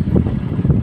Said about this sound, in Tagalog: Grabe ka hangin yun guys